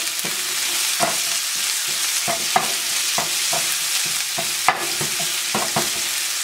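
Shallots sizzling steadily in a pan while being stirred, with repeated scraping and clicking strokes of a utensil against the pan scattered throughout and no talking.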